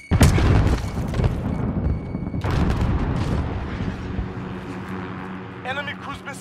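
Heavy booming blasts from cruise missile strikes in Call of Duty: Modern Warfare, a loud explosion opening the clip and another about two seconds later, each rolling into a long rumble, with game voice lines heard over the din.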